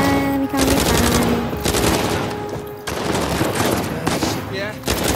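Gunfire from the video game Uncharted 4 comes in dense automatic bursts with short gaps between them. A player speaks over the loud, close shooting.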